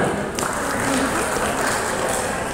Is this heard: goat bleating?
no